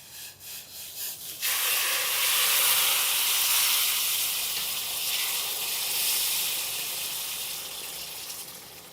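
Water poured over roasted semolina in a large pan on the stove bursts into loud, rushing steam hiss after a second of softer sound, staying strong and then easing slowly while sounding close and without speech.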